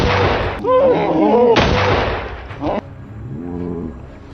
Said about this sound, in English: I raised my rifle, took aim, and dropped on the spot.